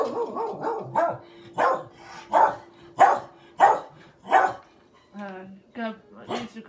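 Dogs bark in repeated sharp bursts, fairly close, mixed with a person talking and a low TV murmur during a Fallout 76 play session indoors.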